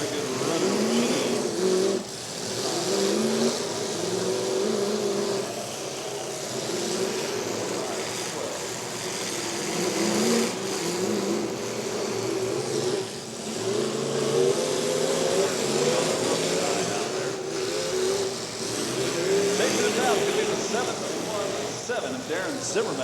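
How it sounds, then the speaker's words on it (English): Demolition derby cars at a Portage County track run their engines in a steady, loud mechanical roar with surging revs, while an announcer talks over the din throughout. "Billy Bob sounds like he's got a pretty good run of the machine"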